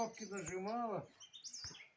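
A small bird gives a short, bright chirping call outdoors in the evening, close and clear, followed by a few fainter, softer notes.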